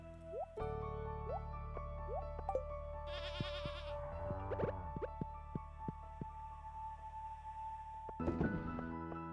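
In the farming game Stardew Valley a goat gives a clear, wavering bleat at mid-volume, while game music with plucked notes and soft drip-like effects plays steadily around it.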